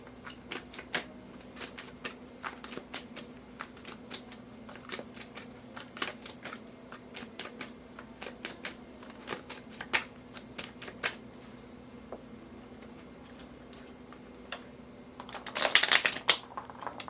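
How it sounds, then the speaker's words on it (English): Tarot cards being shuffled, a long run of crisp riffling clicks and flicks at close range, ending in a louder dense burst of riffling, with no voice. "I'm actually going to shuffle this one more time."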